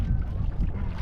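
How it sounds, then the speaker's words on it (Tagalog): Strong wind at sea buffets a small fishing boat, making a low, rumbling, close roar that covers most other sound. "Malakas ang hangin."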